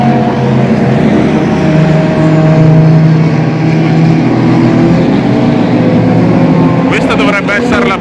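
A Porsche race car in a six-hour WEC endurance race at Spa-Francorchamps roars past, a steady loud engine drone with shifting pitch lasting throughout, joined near the end by a voice speaking.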